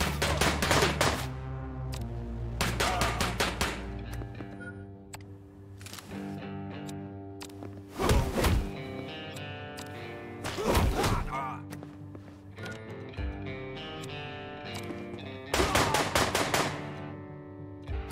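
Machine pistol fire in John Wick Hex comes in sharp, rapid bursts spaced across the stretch, several separate volleys standing out over quieter game music and effects.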